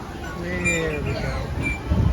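A bird at a cruise ship port beside the Carnival Mardi Gras gives faint, brief cooing calls over outdoor background noise.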